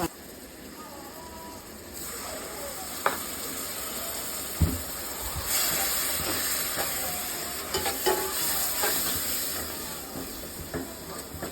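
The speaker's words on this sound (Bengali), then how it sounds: "মশলা কষানো হয়ে গেছে" Spice paste fries in a pan for a potato, tomato and fish curry, a steady sizzle and hiss broken by scraping stirs and a few sharp knocks of the spoon, close by.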